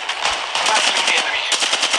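Rapid automatic gunfire from the mobile game Apex Legends Mobile, with dense bursts of shots firing almost continuously and a short break partway through.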